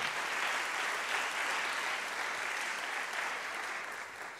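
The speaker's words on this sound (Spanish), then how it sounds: "Ofrecemos un aplauso a don Albert López Valenciano." An audience at a sustainable tourism meeting at a campus in San Carlos applauds a speaker, a dense, even roar of many hands clapping that holds steady for several seconds and tapers slightly at the end.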